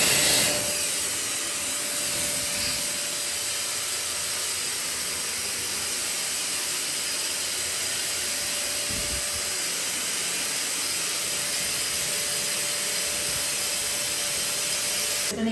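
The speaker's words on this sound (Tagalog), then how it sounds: "Ito blower to ng mga aso, pero maganda din siya pampatuyo ng CR." A dog blower dryer pushing hot air, used here to dry a bathroom, runs as a steady loud whooshing roar with a faint hum, continuous throughout with no talk.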